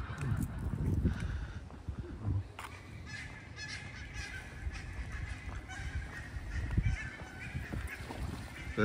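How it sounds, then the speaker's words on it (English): Barnacle geese honk repeatedly at a campus lake, loud nearby calls rising over a background of other waterfowl and outdoor noise, with a few strong honks standing out. "So what are those black and white ones? Barnacle goose."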